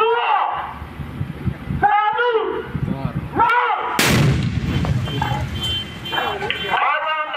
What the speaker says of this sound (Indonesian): Personel Satuan Penjinak Bom Brimobda Bengkulu ledakan barang terduga bom di Fuel Pertamina Bengkulu.